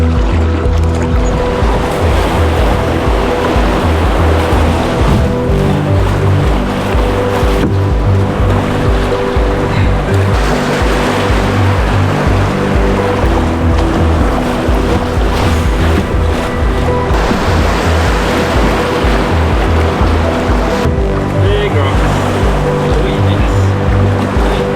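River rapids on the Housatonic River heard from a kayak, a loud continuous rush and splash of churning water lasting throughout with steady broadband roar.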